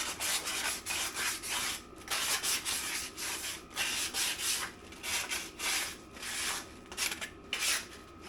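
Sandpaper rubbing back and forth over a surface during brake work on a Mercedes W203, a close, steady rasping scrape in repeated strokes with short pauses between them, and no voices.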